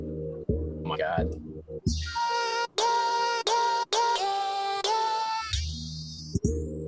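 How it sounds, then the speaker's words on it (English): Filtered keyboard notes isolated from a sample, sustained tones sweeping in and out through a filter with brief gaps, set between stretches of muffled sample audio. "You just isolated just the keys."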